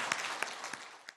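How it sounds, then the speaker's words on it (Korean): Soft, distant clapping from a church congregation during a Sunday worship service, with a few sharper claps standing out, brief and fading away. "하나님께 영광의 박수 올려드립니다"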